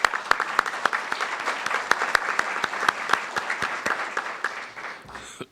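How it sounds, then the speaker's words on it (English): Applause for the EAC at an elections summit, a steady wash of clapping with sharp individual claps standing out, sustained at moderate loudness before trailing off at the end. "I'd like to give, at this point, a nice round of applause for the EAC."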